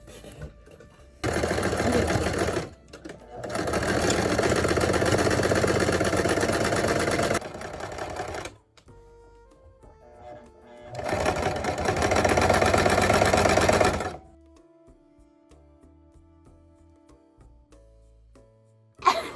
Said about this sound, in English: I'm gonna sew right here with my machine